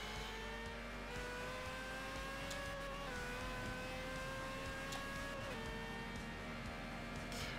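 Racing-game car engine in Forza Horizon 5, a steady continuous drone with shifting pitch as the car is driven, heard alone without talk and holding at a constant loudness throughout.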